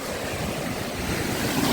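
Sea waves wash onto Odesa beach under steady wind, a continuous broadband roar with gusty low rumble, close and fairly loud, with no voices.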